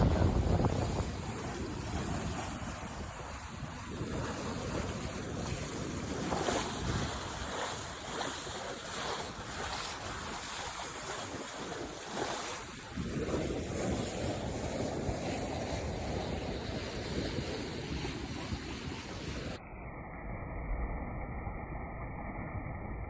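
Sailboat under way on an evening passage toward Copenhagen at about 5 knots, with steady waves washing along the hull and wind buffeting the microphone, continuous and fairly loud throughout with no talk.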